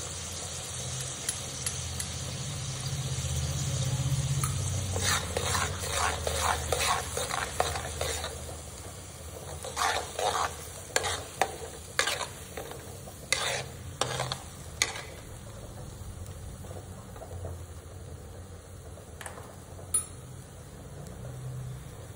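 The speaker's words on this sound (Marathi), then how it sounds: "तेल सुटेपर्यंत ही प्युरी आपल्याला भाजून घ्यायची आहे." Onion-tomato puree for a mutton curry frying in a pan and being stirred, a low steady sizzle beneath a run of close spoon scrapes and taps that cluster in the middle and thin out toward the end.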